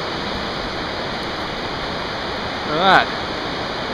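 Swallow Falls on Muddy Creek in Maryland's Swallow Falls State Park pours with a steady, unbroken rushing roar throughout, and a voice speaks briefly near the end.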